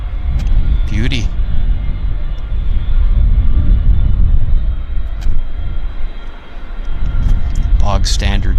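Icelandair airliner taxiing off stand at Vancouver airport, a steady low engine rumble droning throughout, with brief higher whines and background clatter near the start and end.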